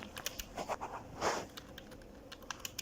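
Typing on a computer keyboard, a quick run of light key clicks in uneven bursts with a brief noisier clatter midway, close and quiet with no talk.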